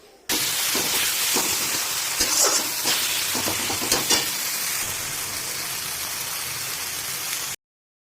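Chopped tomatoes sautéing in a pan for a pangas fish curry, a steady close sizzle with scattered stirring scrapes and bubbling pops, continuous for about seven seconds before cutting off.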